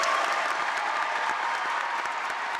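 An audience at the Scripps National Spelling Bee finals claps steadily, a dense, loud wash of applause filling the hall without pause.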